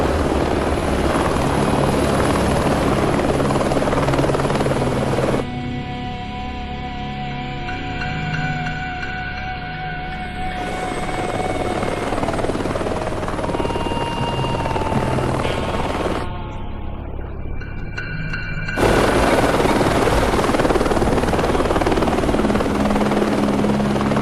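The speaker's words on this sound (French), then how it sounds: "C'est en hélico qui s'amène" A helicopter approaches with a continuous loud rotor thump and engine whine that keeps going steadily for over twenty seconds, close and dominant with no talking.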